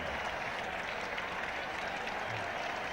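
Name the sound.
cricket crowd cheering and applauding at Test match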